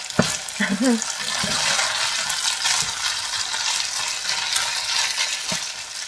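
Liver fries in oil in a pan, giving a steady close sizzle with a few sharp pops of spattering oil and some stirring sounds early on.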